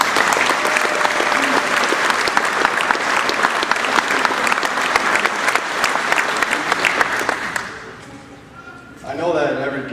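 A crowd claps enthusiastically at a baseball state championship celebration, dense continuous applause that fades out near the end before a voice begins speaking.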